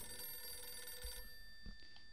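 A telephone rings in a Halloween horror game: a bright, steady electronic ring sounds continuously, then stops about halfway through, leaving a few low thumps and quiet ambience.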